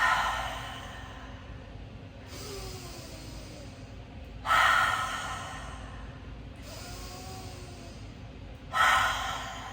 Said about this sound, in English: on your exhale, you're going to open the mouth and let the tongue come out and really let it go